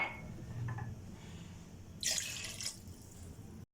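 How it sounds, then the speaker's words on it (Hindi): Water is poured into a pot of rice for chicken pulao, a close splashing and trickling that swells for about a second, then eases into quieter drips. "तो अब इसमें हम पानी जो है वो 3 गिलास ऐड कर देंगे"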